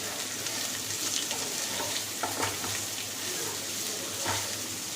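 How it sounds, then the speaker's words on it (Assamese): Onions sizzle steadily in a pan while being stirred toward golden, a continuous fairly loud frying hiss broken by occasional soft scrapes, with no talking. "এতিয়া আমি ধুনীয়াকৈ পিঁয়াজৰ সোণোৱালী ৰং অহালৈকে এইদৰে"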